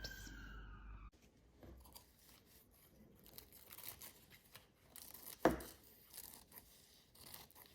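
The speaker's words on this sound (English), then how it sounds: "What we need to do is first cut out some strips." Scissors cutting strips of tissue paper for an Easter craft, heard as quiet, close crinkling and snipping with soft paper rustles and one sharper crunch partway through.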